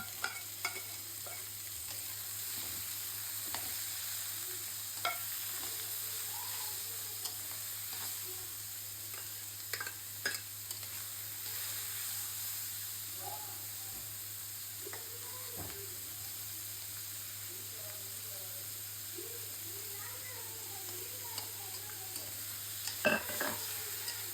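Fenugreek greens sizzle steadily in a pan of fried onions while a spoon stirs and scrapes now and then, a soft continuous frying hiss with a low hum behind it and no talking.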